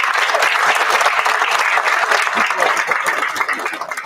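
An audience at a spring band concert bursts into loud, dense applause that holds steady, close and full, tapering slightly at the end.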